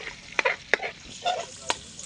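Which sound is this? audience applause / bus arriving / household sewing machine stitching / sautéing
sautéing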